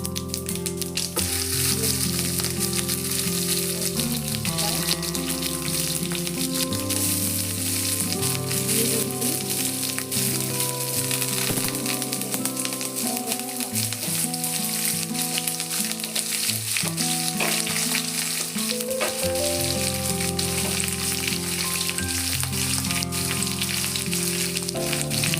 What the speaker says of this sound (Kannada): ಕಂದು ಬಣ್ಣ ಬರೋವರೆಗೂ ಫ್ರೈ ಮಾಡ್ಕೊಳ್ಳಿ